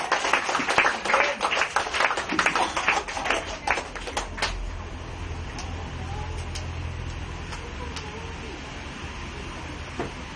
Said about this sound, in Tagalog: pumalakpak po lamang tayo sa altar